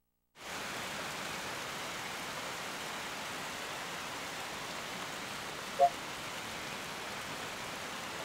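Steady, even rain hiss from the Dreamcast game Pandora no Yume, a continuous wash of falling rain that starts abruptly and holds constant throughout, with no voices.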